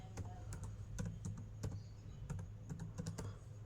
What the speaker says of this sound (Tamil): கூகுள் ஓப்பன் பண்ணிவிட்டு கூகுள் சைட்ஸ்னு டைப் பண்ணுங்கள்